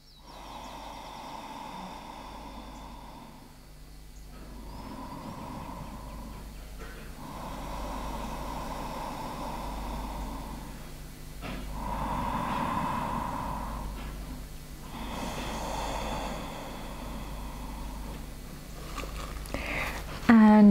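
Slow deep breaths drawn in and pushed out through the nose during a yoga stretching session, several long inhale-exhale cycles repeating steadily at close range, soft and unhurried with no talking.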